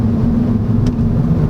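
A 2022 Mini Cooper S Hardtop 4 Door, front-wheel drive, gives a steady low engine drone heard from inside at moderate level, with a brief soft rush partway through and no talking.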